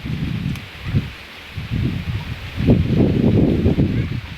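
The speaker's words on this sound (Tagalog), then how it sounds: "Sarap ng hangin dito mga farmers Mahangin-hangin" Calamansi tree leaves rustle in gusts of wind on a farm, rising and falling in waves, close to the microphone with no talking.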